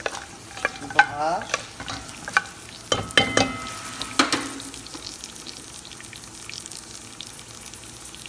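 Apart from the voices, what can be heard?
stirring food in pan until toasted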